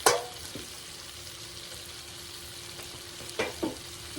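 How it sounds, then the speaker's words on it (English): Deheaded, cleaned shrimp sizzle in melted butter with jalapeños while being stirred in the pan, a steady close frying hiss broken by a few sharper scraping stirs. "we're going to stir this shrimp around in this butter"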